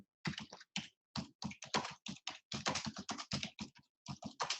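Fingers type on a computer keyboard in quick, irregular bursts of crisp key clicks, close and clear, with short gaps between runs and no talk.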